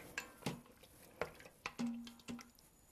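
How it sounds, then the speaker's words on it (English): Honey lemon chicken ingredients with lemon zest being stirred in an Instant Pot, a spoon knocking and scraping the metal pot several times in uneven strokes, with wet squishing between, quiet and close. "Mix it up."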